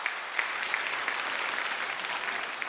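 Even, continuous applause from an audience at a Pongal special Pattimandram debate, a steady wash of many hands clapping with a few sharper claps standing out.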